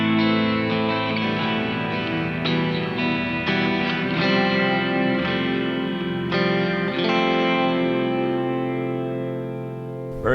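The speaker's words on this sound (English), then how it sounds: "With the Tera Echo with all controls set to noon." Telecaster with both pickups played into a Boss TE-2 Tera Echo pedal, all controls at noon, through a clean Blackstar HD1R tube amp: sustained chords bloom into a thick, shimmering wash of echo and reverb, steady and loud with no talking.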